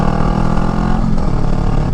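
Honda Rebel motorcycle fitted with a Shorty GP exhaust, loud close engine with a deep throaty rumble, held steady and then easing slightly, with no talking.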